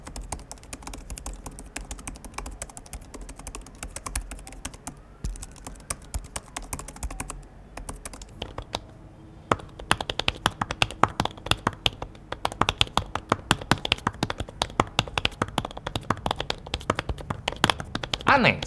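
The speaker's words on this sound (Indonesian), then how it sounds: "Yang pakai scissor switch, enak banget buat ngetik pakai keyboard ini." Typing on an Apple Magic Keyboard with thin scissor-switch keys for an iPad Pro: rapid, light clicking keystrokes, close and steady, growing denser and louder in the second half, with faint background voice underneath.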